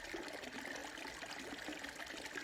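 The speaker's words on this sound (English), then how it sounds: "the soft noise of the water pooling from the fountain" Water from a fountain pools and trickles softly in a steady, faint stream with no other sounds over it.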